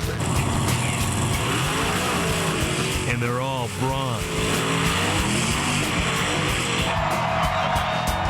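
Monster truck engines rev at a race, rising and falling in loud bursts with a pitch sweep in the middle, under continuous narration and crowd noise.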